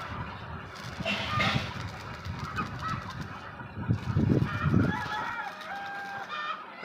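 Chickens cluck and call inside a poultry shed roofed with cement sheets, several birds overlapping in uneven bursts at moderate distance, with a louder flurry near the end.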